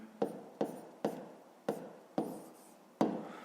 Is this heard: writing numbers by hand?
yes